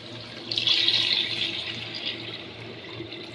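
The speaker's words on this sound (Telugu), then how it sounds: "ఈ గిన్నె నిండా వాటర్ తీసుకుంటున్నాను నేను" Tap water runs into a bowl while cooking chicken dum biryani, a close, steady splashing flow that swells at first and then settles into an even pour, with no voices.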